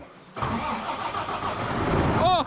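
A Renault Premium truck's diesel engine cranks and catches abruptly, then settles into a loud, close, rattling idle that runs steadily to the end.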